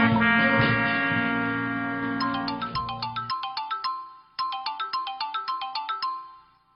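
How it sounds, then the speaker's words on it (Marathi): A phone ringtone plays loud and alone. A sustained melodic tone comes first, then a run of quick, evenly spaced chiming pulses, a brief pause, and another pulsing burst. "तुजो फोन वाजता"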